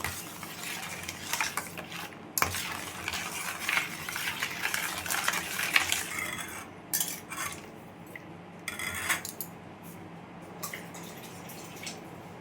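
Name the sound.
mixing sugar and black pepper powder with a spoon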